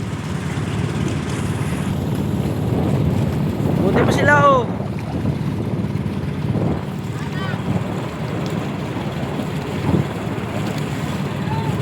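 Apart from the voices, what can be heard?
big waves around a fishing boat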